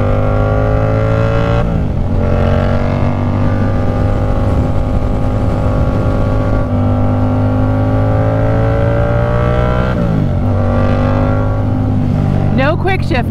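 A Yamaha FZ-07 motorcycle with quick shifter rides and accelerates, a loud close engine drone rising through several gear changes with short dips at each shift, wind rushing over it and a voice talking at times.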